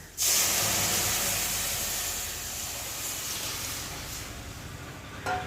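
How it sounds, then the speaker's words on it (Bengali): Boiled dal is poured into a pan of onion and garlic fried until reddish-brown, setting off a sudden loud, hissing sizzle that slowly eases into a steady bubbling fizz, with a brief flare near the end. "এখন আমি ফুটিয়ে রাখা ডালটা দিয়ে ভালো করে ফুটিয়ে নেব"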